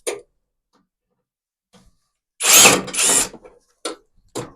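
Small screws come out of the front cover of a combi boiler during servicing, heard as short, close clicking and whirring tool bursts separated by quiet gaps.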